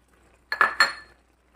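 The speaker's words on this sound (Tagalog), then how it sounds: "Ilagay ko na yung carrots." Carrots drop into a cooking pot for arroz valenciana, making a short, close clatter of two or three quick knocks and clinks against the metal, with no talk.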